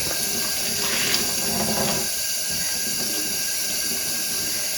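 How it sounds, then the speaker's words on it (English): A tap runs steadily into a sink while an ice-dyed cotton hat is rinsed, producing a loud, continuous close-up rush and hiss of water with a slight change in tone partway through and no talking. "I'm just going to keep washing this until the water runs clear."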